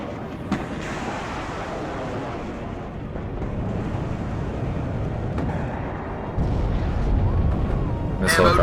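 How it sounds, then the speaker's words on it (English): A helicopter fires on ground troops in the WARNO real-time strategy game. Rumbling gunfire and booming explosions roll on continuously, with a louder stretch near the end and faint game voice chatter underneath. "This helicopter's firing at these guys."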